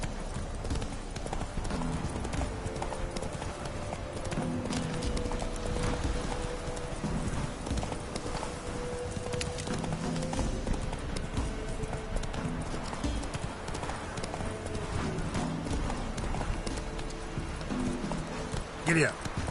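Roach the horse gallops with steady, rhythmic hoof clip-clops in The Witcher, a brief whinny mixed in, while a voice talks over the hoofbeats throughout.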